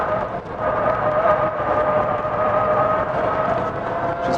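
A Lancia Delta EVO-e electric car with a manual gearbox, driven hard on a heel-toe downshift, gives a loud, steady whine with motor and tyre roar that holds continuously for several seconds, close and without talk.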